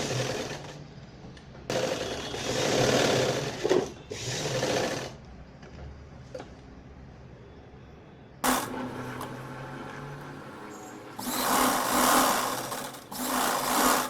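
A sewing machine stitches the lining of a party-wear gown in loud bursts of whirring, stopping and restarting several times with quieter pauses between runs.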